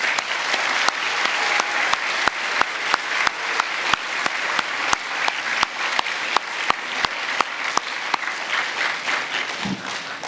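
An audience at a school's end-of-year awards day gives a sustained round of applause for 11th-grade honorees, a dense, even patter of many hands with crisp individual claps ringing out throughout.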